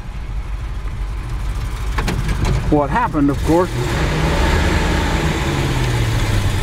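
A car engine idles and runs with a low, steady rumble during a drive around the block, while someone talks briefly over it partway through.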